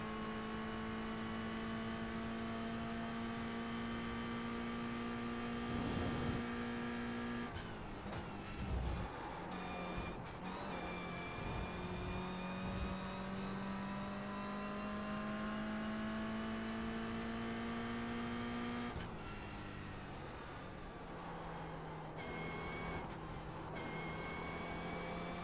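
Toyota GR 86 engine driving at the Red Bull Ring, a steady sustained drone with pitch rising and dipping through gear changes, fairly loud and continuous with no talk.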